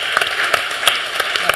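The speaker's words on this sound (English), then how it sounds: "Let's have a round of applause for these guys." Applause from the audience at the Glamour Beauty Festival, a dense, steady patter of clapping with a few sharper individual claps standing out, fairly loud and close, with no talking over it.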